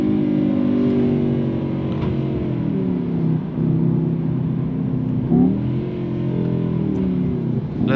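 A 2022 Mercedes-AMG E63 S engine revs loudly and steadily from inside the car, its deep roar rising and falling, with a few brief pops and bangs cracking through.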